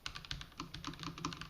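A Razer BlackWidow V4 mechanical gaming keyboard is typed on quickly and steadily. Its keystrokes give a dense run of close, fairly loud clacks with a slight mechanical click, and no one speaks.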